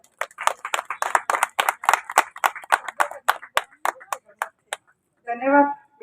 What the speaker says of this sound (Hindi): मैं बुलाना चाहूंगी आपकी तालियों की गड़गड़ाहट के साथ डीवाईएसपी चेतना भाटी मैम को।